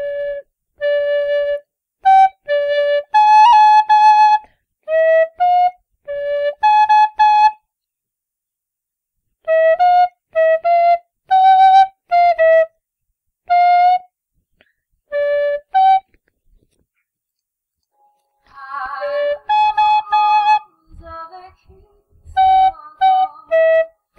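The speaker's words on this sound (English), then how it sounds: "the notes that I play on my whistle" Tin whistle played alone in short bright phrases of clear sustained notes, with pauses between runs, close and fairly loud, as someone works out a tune by ear.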